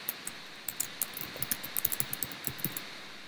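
Quiet clicking of a computer keyboard as someone types text into an editable Paris-themed birthday invitation, irregular rapid keystrokes growing denser after a short pause, close and alone.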